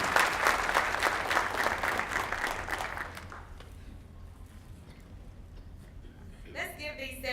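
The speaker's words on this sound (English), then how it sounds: "Let's give these 7th graders another round of applause." An audience at an MLK celebration gives 7th graders a round of applause, loud clapping for about three seconds that fades away, followed by quiet and then a voice speaking.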